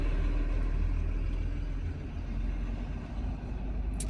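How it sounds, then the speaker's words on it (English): A truck passing outside gives a steady, loud low rumble of engine and road noise that fills the whole stretch, with no voices over it. "there's a truck passing"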